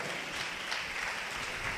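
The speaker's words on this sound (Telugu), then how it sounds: "గట్టిగా చప్పట్లు కొట్టండి, గట్టిగా గట్టి కొట్టాలి" A church congregation claps loudly during a sermon, a dense, steady wash of many hands held at an even level for the whole stretch, with no voice standing out.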